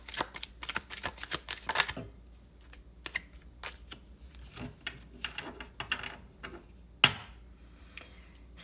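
Tarot cards being shuffled at close range in a pick-a-card reading: a quick run of papery riffles and soft slaps, then a few separate taps and one sharp card snap near the end, with no voice.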